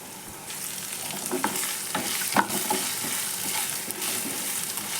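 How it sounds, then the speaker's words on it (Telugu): Ginger garlic paste fries with cooked onions in a pan for a potato and brinjal masala curry, a soft steady sizzle broken by a few spatula scrapes and taps. "అల్లం వెల్లుల్లి పేస్ట్ పచ్చివాసన పోయే విధంగా వేయించుకొని"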